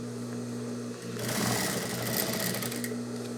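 A sewing machine stitches a handmade handbag on a reduced stitch length of 4, its steady motor hum running alone and picking up into a louder, faster whir partway through.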